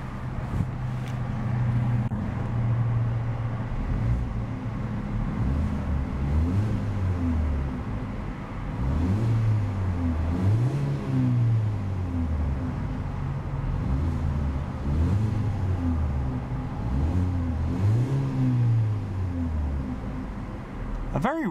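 Revving 1.6 liter engine and exhaust of a 2014 Hyundai Veloster ReFlex Edition with a center-mounted exhaust, rising and falling in several repeated rev swells over a steady idle, close and loud.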